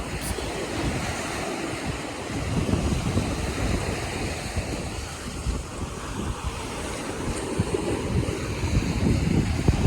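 Sea waves wash up onto a beach at early morning, a steady rolling surf roar with gusts of wind buffeting the microphone, continuous and fairly loud with no voices.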